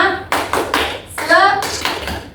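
A teacher in a primary school classroom demonstrates a rhythmic spirit clap. A quick sequence of sharp, close hand claps comes in an uneven pattern, mixed with a spoken voice.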